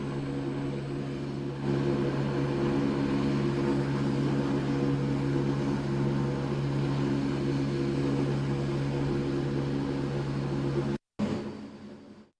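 A helicopter runs with a steady droning hum and low rotor tones, constant and fairly loud before cutting off abruptly near the end.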